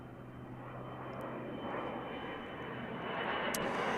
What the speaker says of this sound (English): We got 2 more F-16s inbound.